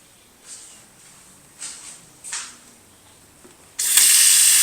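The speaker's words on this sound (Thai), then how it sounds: "โอ้น้ำไหลแรง" A campground restroom tap is turned on and water gushes out strongly after a few faint clicks and knocks, becoming a loud, sudden, sustained rush up close.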